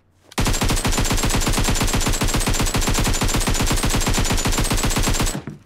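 An AK assault rifle in PUBG Mobile fires one long unbroken full-auto burst of rapid, evenly spaced loud shots lasting about five seconds, with no talk.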